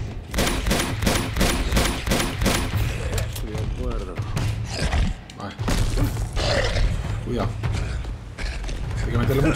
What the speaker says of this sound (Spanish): Muchos tiros.